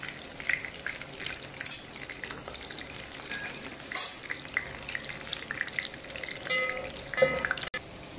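Onions with ginger-garlic paste frying in a pan on low heat, a steady soft sizzle with faint crackles and occasional stirring scrapes throughout, close and fairly quiet.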